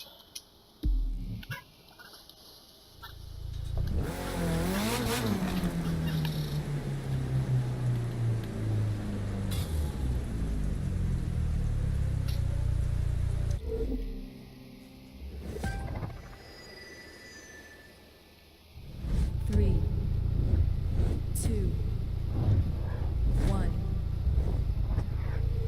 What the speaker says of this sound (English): With the supercars on the West Florida coast track.